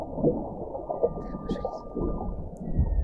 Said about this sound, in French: C'est le chant des baleines